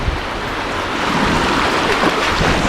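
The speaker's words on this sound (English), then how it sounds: "Watch out for them waves." Steady roar of ocean waves washing in at a Massachusetts beach, broadband and continuous with a gust of wind over it, no voices.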